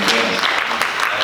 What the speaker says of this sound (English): I think a round of applause for everyone who's here.